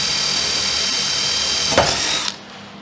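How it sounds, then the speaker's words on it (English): A power drill whines steadily at high pitch, with a brief bump as the 1/8-inch bit bites into a motor cover, then cuts off abruptly near the end. "drill the top"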